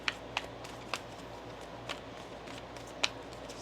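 Tarot cards are being shuffled, producing a few faint, sharp riffling snaps spaced irregularly across an otherwise quiet room.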